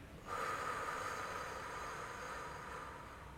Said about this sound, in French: Et on souffle.